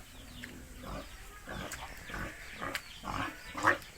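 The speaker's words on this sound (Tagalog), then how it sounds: "May baboy pa doon." Pig grunting in a rural backyard, a series of short low grunts spread across the moment with one sharper squeal-like sound near the end, moderately close over outdoor ambience.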